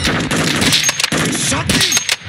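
Rapid gunfire from Call of Duty Modern Warfare 2's DMZ mode, loud bursts of shots in two clusters with sharp transient cracks and a busy game soundscape throughout.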